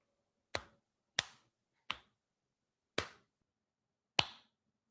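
Five sharp, isolated hand claps for audio sync ring out close in a quiet room, spaced unevenly about a second apart, each with a short, bright decay.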